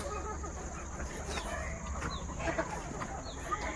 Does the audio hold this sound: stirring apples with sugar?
no